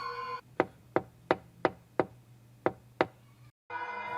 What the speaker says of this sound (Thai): แต่แล้วจู่ๆก็มีเสียงเคาะกระจกดังขึ้นฝั่งคนขับ